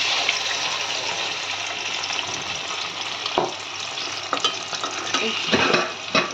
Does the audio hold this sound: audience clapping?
no